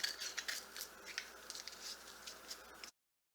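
Scissors snip through a foam sheet for tile coasters in quick, light, crisp cuts up close, a steady patter of soft clips that stops abruptly.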